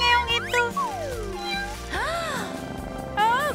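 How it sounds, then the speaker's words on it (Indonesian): A cat meows several times in a cartoon-like scene with toy dolls, drawn-out rising and falling calls, close and clear, with a voice or music under parts of it. "Siapa yang mengeong itu?"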